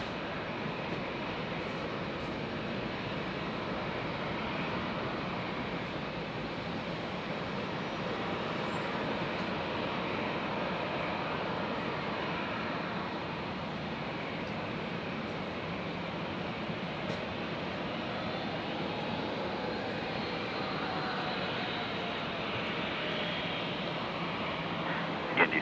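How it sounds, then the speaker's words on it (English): A Qantas Airbus A330 airliner taxis at Brisbane International Airport with a steady, broad jet-engine whine and roar that holds constant and moderately distant throughout, with no talk over it. "we've just got our Qantas A330 pushed back and taxiing"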